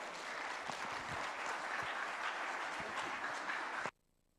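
A church audience breaks into loud, sustained applause to welcome a music group, a dense wash of clapping that holds steady for about four seconds and then stops abruptly into near silence.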